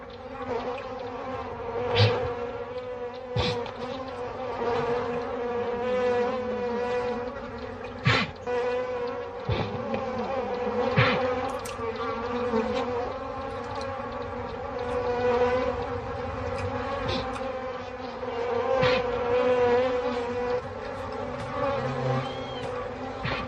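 A swarm of African bees buzzes steadily and densely in the wild for over twenty seconds, a continuous droning hum close by, punctuated by occasional louder passes near the listener.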